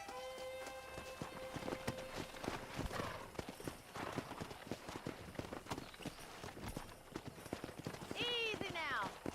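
Horses in Red Dead Redemption on a ranch clop steadily with close hoofbeats, and one lets out a clear whinny near the end, under background game sound with speech.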